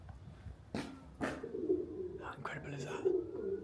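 Pigeons coo softly close by beside the River Wey on a winter walk, a few low rolling calls broken up by someone quietly speaking.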